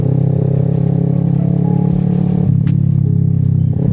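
A steady, loud Kawasaki Z650 motorcycle engine idling and revving, a continuous low rumble with slight rises in pitch, heard close up with no speech.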